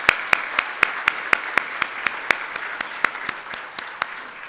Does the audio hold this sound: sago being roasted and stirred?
no